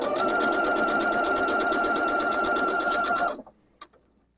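A sewing machine runs a fast continuous stitch while chain piecing 2.5 inch squares for a Christmas hexagon quilt, loud and close for about three seconds, then stops with a few soft clicks.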